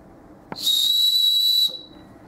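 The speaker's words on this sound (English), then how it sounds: "built into the buckle is a survival whistle" A small survival whistle built into a bracelet buckle gives one sustained, piercing high-pitched blast lasting about a second, loud and close, after a brief click.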